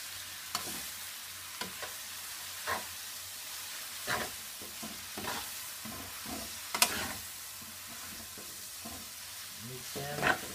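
Al dente pasta being stirred into a pan of bacon for homemade carbonara, with soft sizzling under scattered scraping clicks of the spoon, fairly quiet and close.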